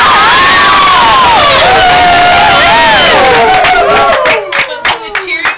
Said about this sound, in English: The crowd cheered wildly at her juggling skill.